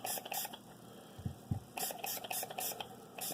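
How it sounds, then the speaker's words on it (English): Repeated short hissing bursts of an aerosol solvent sprayed onto gun parts, several in quick succession, close and fairly quiet, with a couple of soft thuds between. "I like to spray my parts down"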